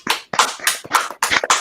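Hand clapping up close, about six sharp slaps in an uneven, quick rhythm, loud and dry with no voices.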